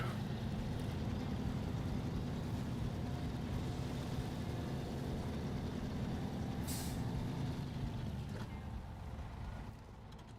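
Trucks idle in a truck yard in the SnowRunner video game, a dense low engine rumble running throughout, with a sharp hiss of air brakes releasing partway through before the drone eases slightly.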